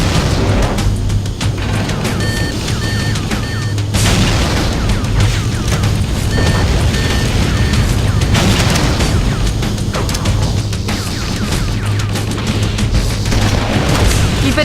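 Fusion reactor explosions in Halo CE rumble and burst in heavy, overlapping booms, loud and continuous, with gunfire and battle noise mixed in.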